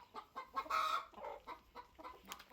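A rooster on a village farm clucks in a series of short, irregular bursts, one slightly longer call among them, fairly faint at close range with no talking.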